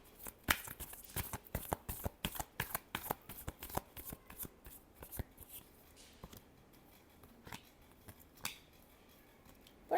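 Tarot cards being shuffled by hand in a quick burst of crisp riffling flicks, then slower scattered card slaps and taps, close and fairly quiet with no talking.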